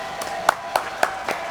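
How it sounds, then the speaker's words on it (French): A handful of sparse, separate hand claps from a small studio audience on a French talk show, about five distinct claps spaced across a second and a half, fairly faint and with no voices. "On l'applaudit?"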